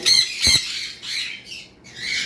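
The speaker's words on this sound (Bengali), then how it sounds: "এখানে এক জোড়া সানকুনুর আছে" A pair of sun conure parrots gives shrill, piercing squawks, two loud bursts followed by softer calls. They are close and there is no speech.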